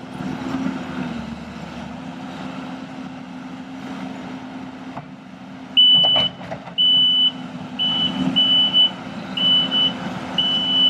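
A Bobcat skid-steer loader digs dirt around a house foundation, its engine rumbling steadily, then repeated high-pitched reversing beeps sound in short bursts over the continuous engine noise.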